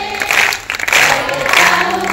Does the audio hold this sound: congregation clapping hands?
yes